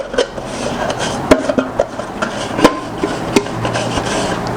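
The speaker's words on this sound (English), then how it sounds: "I'll carry buttercream, rub inside my pan." Buttercream being rubbed by hand inside a metal cake pan for a coconut cake, with soft scraping and rubbing over a steady background hiss and a few sharp metallic taps and knocks, close by, with no talking.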